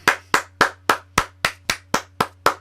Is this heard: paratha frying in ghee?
no